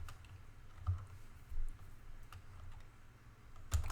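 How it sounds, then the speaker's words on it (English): Quiet, steady typing on a computer keyboard, with soft irregular key clicks and a few sharper taps, close by and with no voices. "let me type"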